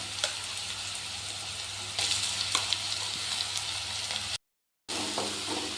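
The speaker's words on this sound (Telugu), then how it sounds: "పచ్చిమిర్చి పచ్చిది కాబట్టి కొంచెం మనము ఆయిల్లో వేపాలి" Ground green chili paste sizzles and fries in hot oil with browned onions in a pan for a Telugu thummi leaf fry, a steady close hiss with light stirring scrapes and a brief gap of silence.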